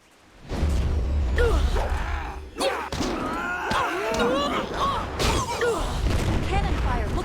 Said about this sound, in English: Cannon fire, look out!